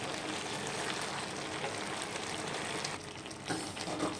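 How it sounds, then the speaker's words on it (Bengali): Bottle gourd and egg curry seasoned with garam masala sizzles in the pan in a steady, continuous hiss as it is stirred gently, with a brief dip in the noise partway through. "এটা দিয়ে হালকা হাতে একটু নেড়ে নেব"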